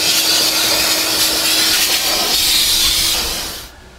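A vacuum cleaner fitted with a crevice tool sucks sand and debris from around car seats, a loud steady hissing roar with a faint hum that holds for several seconds, then cuts off abruptly near the end.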